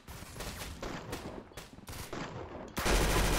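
Quick bursts of automatic gunfire in the Roblox-style shooter game Arsenal, sharp repeated shots in short strings, ending in a louder sustained blast.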